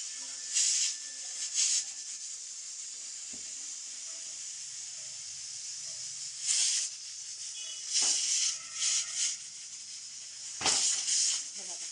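A pressure cooker of rice whistles and hisses in several loud bursts of steam over a steady background hiss, with quieter kitchen clatter between the bursts.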